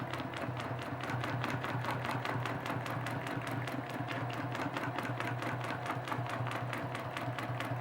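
A sewing machine stitches a quilt for a USA Friendship Map pattern, running at a steady fast pace with a rapid, even needle rhythm throughout, close and continuous with no talking.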